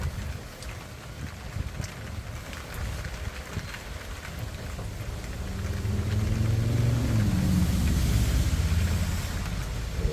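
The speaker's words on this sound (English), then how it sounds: "And here we go with the rain." Continuous rain hisses and patters outdoors with wind buffeting the microphone, while a low engine rumble builds in the background.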